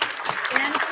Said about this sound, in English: Quick round of applause to the ladies on the panel